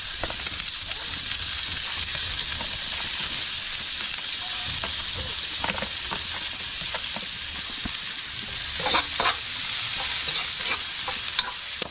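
Pork fat sizzles and fries steadily in a hot pan, with a dense continuous crackle and occasional sharper pops, close and fairly loud throughout with no talk.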